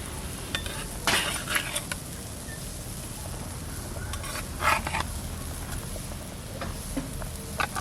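Pieces of hilsa coated in salt, turmeric and mustard oil go into a pot of boiling water for a fish curry, making clattering pot and utensil knocks with splashy bursts over a steady bubbling hiss, fairly close.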